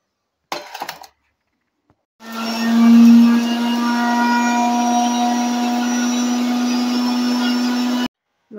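A mixer grinder whirs loudly and steadily for about six seconds, grinding bajji batter with cumin, after a few brief clinks at the start; no one talks.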